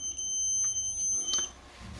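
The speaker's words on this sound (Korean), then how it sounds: "이렇게 전기가 들어오면 이렇게 부저가 울리게 돼 있습니다" A steady high-pitched buzzer tone from a non-contact voltage tester detecting live current sounds continuously, fairly loud and close, with faint rustling underneath.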